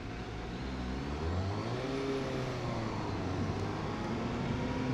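A 2018 Suzuki GSX-S750 motorcycle engine hums steadily while being ridden, with rising and falling harmonic tones over continuous wind and road rumble, loud and close throughout without speech.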